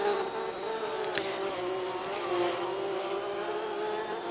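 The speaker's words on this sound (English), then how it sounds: "SVE Porsche now making their way by from Oceana." An SVE Porsche race car drives past on the circuit at a distance, its engine a steady mid-pitched drone that swells slightly as it goes by, with no one talking over it.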